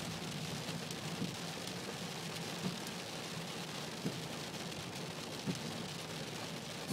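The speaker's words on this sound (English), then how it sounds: "there's still a mixture of hail and rain" Hail mixed with rain pelts a vehicle during an active thunderstorm cell in East Yorkshire, a dense, steady hiss of drops and ice on the surfaces, with a few sharper knocks standing out at intervals.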